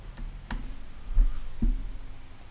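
Keys tapped on a computer keyboard for a card search, a few scattered clicks and taps spaced out over a quiet room.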